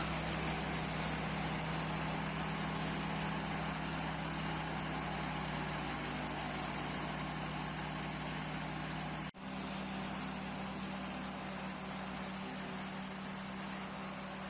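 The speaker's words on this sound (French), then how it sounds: "pendant que le moteur tourne" A steady, loud ultralight aircraft engine running on a test bench drones with a constant hum throughout, broken once by a very brief dip, then continuing unchanged.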